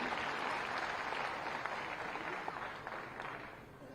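Audience applause in an auditorium at a Chhattisgarh community gathering, a dense sustained round of clapping from a large crowd, fairly distant and gradually tapering toward the end.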